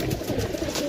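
Pigeons cooing at a bird sale, soft low throaty coos layered close together and continuous through the short moment, with no talk over them.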